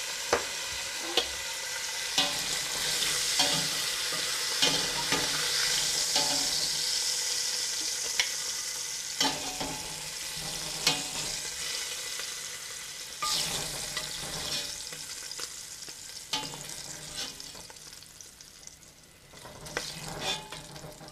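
Pancetta frying in a pan on a home kitchen stove, a continuous loud sizzle with crackles and the scrape of stirring, close and steady for the whole stretch with no talk.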